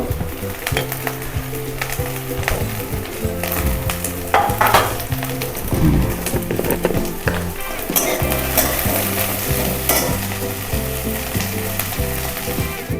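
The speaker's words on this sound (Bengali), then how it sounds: "গাজরটা একটু ভাজা হবে, তারপরে ক্যাপসিকাম দেবো।" Carrots fry in a pan for chowmein, a continuous sizzle under repeated stirring and scraping, with occasional clinks of the utensil against the pan.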